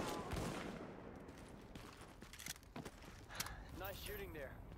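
Rapid gunshots and bursts of gunfire in the Tom Clancy's The Division shooter game, scattered cracks over a busy background while people talk.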